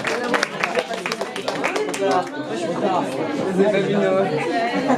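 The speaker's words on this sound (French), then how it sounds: "On les applaudit encore, s'il vous plaît" An audience claps for a school slam group of third-year pupils, the applause steady and close with crowd chatter mixed through it.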